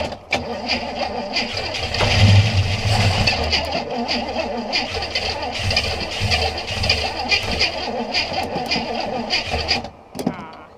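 The engine of a 1968 Buick Skylark Custom, abandoned since the 80s, cranks and then catches into a rough running rumble. Excited voices talk over it.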